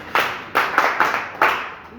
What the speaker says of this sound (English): Please clap for her, please.